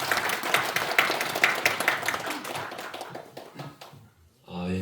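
An audience at a teachers' training session claps for a few seconds, with scattered hand claps that thin out and fade before a voice begins speaking.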